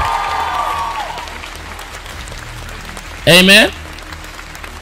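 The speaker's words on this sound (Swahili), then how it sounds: "Clap your hand for Jesus." A church congregation claps for Jesus in a steady, distant patter beneath a preacher's voice, followed by a short sung or shouted response from the crowd.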